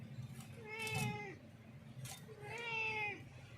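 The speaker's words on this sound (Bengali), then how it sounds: "আমার মিনি মা জ্যান্ত মাছ দেখে ভয়েতে মায়া মায়া করছে" A pet cat meows twice at a live fish, with two drawn-out, wavering cries close by, separated by a short pause.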